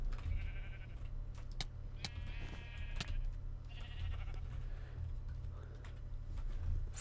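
Minecraft sheep bleating in short repeated calls, a few distinct bleats spread across the stretch over a low steady hum, with clicks and small game noises around them.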